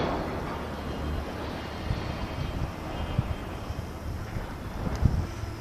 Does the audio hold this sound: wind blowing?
yes